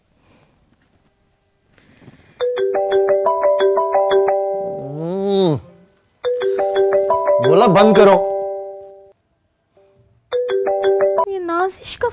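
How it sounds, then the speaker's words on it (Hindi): A mobile phone plays a melodic electronic ringtone for an incoming call in repeated bursts with short gaps between them, loud and close, while a voice speaks briefly over it. "ये नाजिश का फोन आ रहा है"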